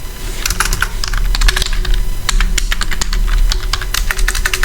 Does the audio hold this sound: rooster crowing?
no